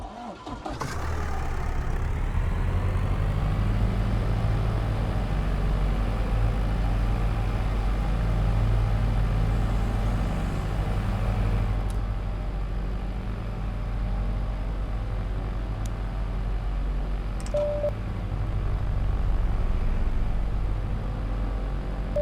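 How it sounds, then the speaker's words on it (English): A Diamond DA62 aircraft engine starts up in the Prepar3D flight simulator, catching within the first second and settling into a loud, steady droning idle that runs on unbroken. "start the engine, so I'll be quiet so you can listen to the sounds of the startup"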